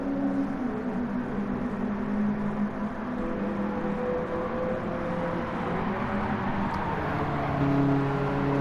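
A BMW E30 M3 race car at Suzuka: a steady, somewhat distant engine drone holds throughout, swelling slightly near the end, alone without talk.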